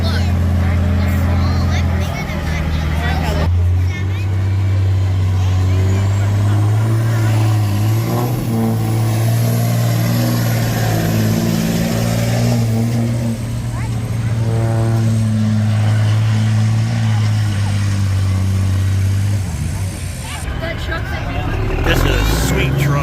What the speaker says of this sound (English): This is a sweet truck. A Diamond Rio, man.